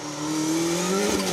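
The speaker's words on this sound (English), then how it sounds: "The ex-Francois Delacour Ford Sierra Sapphire Cosworth, just doing a bit of an accidental donut" A historic Ford Sierra Sapphire Cosworth rally car spins through a donut on a rally stage, its engine droning steadily and rising in pitch, with a rough tire scrub near the end.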